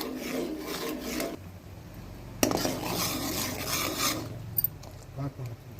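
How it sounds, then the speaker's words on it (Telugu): Jaggery is stirred in a pan until it melts into syrup, with close, continuous rasping and scraping of a spoon against the pan, a sharp knock midway and a few light clinks near the end. "అలాగే బెల్లం 2 కప్పులు ఇట్లా కరిగేదాకా కలుపుకోవాలి"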